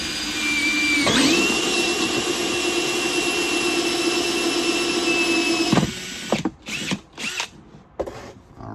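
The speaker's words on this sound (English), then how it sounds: "You're going to drill a hole right in the underneath," A power drill whines steadily as it bores a hole into the underside of a plastic blow mold truck, running loud and close for several seconds before stopping, followed by a few short bursts and handling noises.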